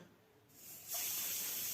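A sharp, loud hiss of escaping steam bursts out and holds steady after a quieter moment, a pressure cooker whistling while cooking mutton over a medium gas flame.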